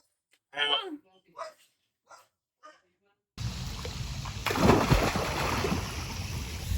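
Dogs bark noisily outdoors against a steady background rumble, following a short stretch of a person talking.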